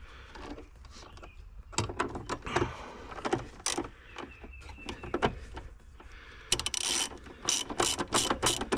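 A ratchet tightens the bracket holding a BMW X3/X4 car battery, with repeated bursts of quick clicking pawl strokes close up, separated by brief pauses and faint handling noise.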